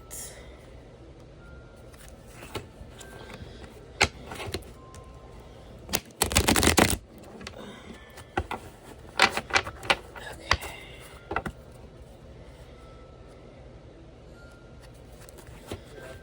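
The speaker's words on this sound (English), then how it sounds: "I'm just thinking about stuff while shuffling the cards." A deck of cards being shuffled by hand, heard as scattered bursts of riffling and snapping with one longer, louder riffle in the middle, separated by quieter pauses.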